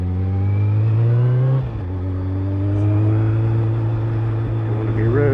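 A Suzuki Bandit 1200 motorcycle engine drones loud and close, its steady tone dipping briefly before pulling up again as it gains speed, with rushing wind noise throughout.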